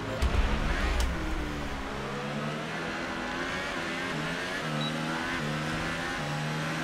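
Race car engine revving hard in a racing video game at Circuit de Spa, a steady high-pitched whine with rising and falling gear changes, loud and continuous with a low rumble at the start.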